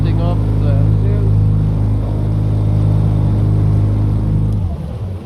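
A boat outboard engine being tilted up, a loud steady low drone with strong harmonic hum that holds throughout and then drops off sharply near the end as the pitch and load change.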